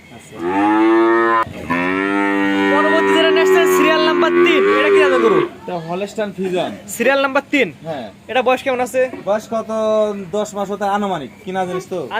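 A Jersey heifer calf moos close by in one long, loud, drawn-out call, then gives shorter broken lowing sounds over the following seconds.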